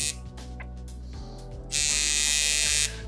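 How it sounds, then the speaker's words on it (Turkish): A rotary tattoo machine is switched on with a foot pedal and buzzes steadily at close range, starting after brief uneven buzzing and cutting off abruptly about a second later. "Şu an pedal yeriyle makineyi çalıştırıyorum."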